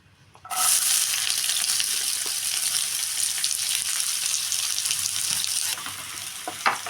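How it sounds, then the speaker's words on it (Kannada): Onions hitting hot oil for egg bhurji burst into a loud, steady sizzle that holds for several seconds, then eases slightly near the end with a faint clink. "ನೋಡಿ ಈ ಥರ ನಾವು ಎಣ್ಣೆಯಲ್ಲಿ ಸ್ವಲ್ಪ ಫ್ರೈ ಮಾಡ್ಕೋಬೇಕು"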